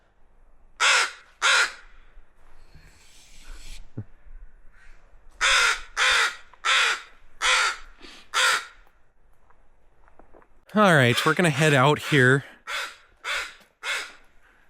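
Agitated crows near their nest at Taku Harbor, Alaska, give loud, close caws in clusters of two to six harsh calls separated by pauses. A person speaks briefly between the calling bursts.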